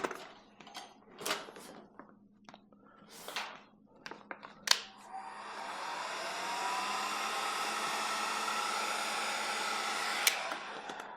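A heat gun warms 3M Di-Noc architectural film being wrapped onto an office desk. A few close handling clicks and taps come first, then a steady, close blowing hum switches on and runs unbroken to the end.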